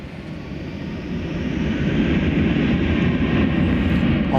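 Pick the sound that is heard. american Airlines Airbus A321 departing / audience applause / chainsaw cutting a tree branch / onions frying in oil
american Airlines Airbus A321 departing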